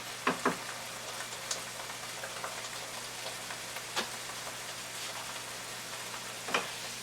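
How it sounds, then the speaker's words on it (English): Liquid bubbling and sizzling in a skillet as it is deglazed after a pork shoulder roast with onion and celery, a steady soft crackle with a few sharper pops scattered throughout. "I'm just going to let it kind of boil just enough to deglaze this here skillet that it's in."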